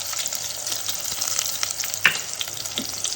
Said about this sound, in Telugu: ఒక స్పూన్ జీలకర్ర వేసుకున్నాం.